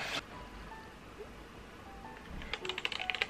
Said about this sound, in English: So this is actually my first mechanical keyboard ever